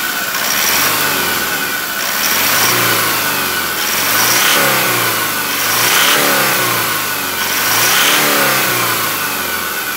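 A 2017 Toyota Hilux, running after a clutch replacement at 100,000 km, is revved repeatedly up and down in steady waves about every two seconds. The engine is loud and close, with no talk over it.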